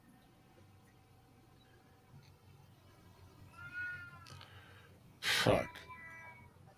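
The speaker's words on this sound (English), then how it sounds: "It's the cat, if you can hear it." A domestic cat lets out a short, wavering meow partway through, faint and slightly distant beneath a quiet room, followed by a sharp burst of a man's swear and a brief second cat call.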